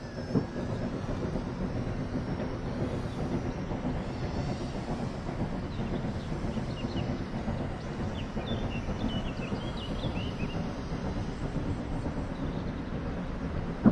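A train rumbles steadily past at moderate distance, a continuous low mechanical drone with faint higher squeals, heard over wind without voices.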